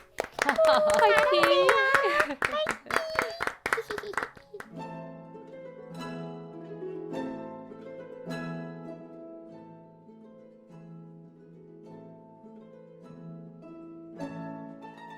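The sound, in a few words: clapping at a music contest in a story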